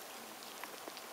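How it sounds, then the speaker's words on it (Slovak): Rain falls outdoors on a wintry walk, a faint, steady hiss of drops with a few soft isolated patters, distant and continuous with no voices. "Lebo nám prší, nebodaj ešte to začne aj mrznúť"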